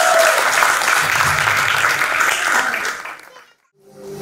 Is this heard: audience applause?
yes